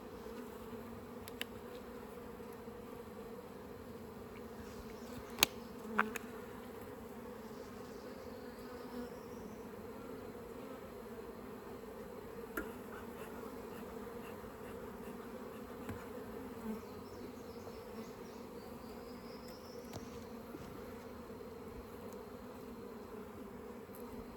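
Honeybees buzz in a steady, soft, continuous hum during an open hive inspection, with occasional faint clicks and taps from handling frames.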